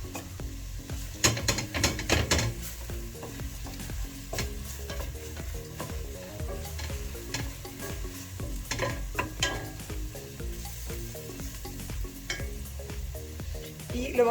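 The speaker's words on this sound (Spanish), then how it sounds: "Y lo vamos a saltear por 3 minutos aproximadamente." Onion and garlic sauté in a pan for a mushroom, spinach and asparagus quiche, a continuous low sizzle broken by frequent scraping and clacking stirs of a utensil.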